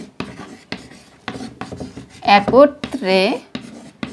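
Letters are written on a board in short, scratchy strokes and taps that come in irregular bursts, mixed with a voice speaking Bengali nearby.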